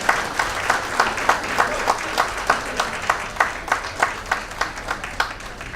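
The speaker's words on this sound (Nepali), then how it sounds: "उहाँलाई हामी ताली बजाउनेछौँ।" Wedding guests clapping together in a steady, rhythmic beat of distinct, evenly spaced claps, fairly close and loud, with no talking over it.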